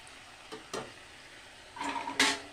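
A pot of mutton curry with peas is stirred after salt goes in, soft sizzling under a few short scraping strokes of a spoon against the pot, close and quiet.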